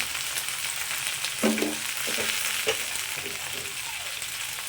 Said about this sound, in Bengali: এর মধ্যে এখন আলুটাকে একটু নাড়াচাড়া করে নিলাম